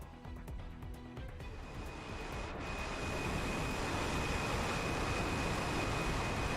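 F-14 jet engines in the DCS combat flight simulator, a broad roar that swells over the first few seconds and then holds loud and steady, with a thin high whine running through it.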